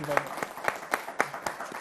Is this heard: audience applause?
yes